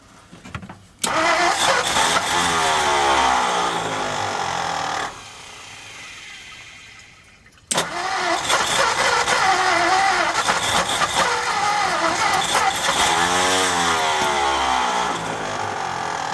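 A 1955 Ford F250 truck engine with pumping lifters and finicky timing, loud and close, cranking to life and running roughly, dropping off for a couple of seconds, then restarting and revving steadily.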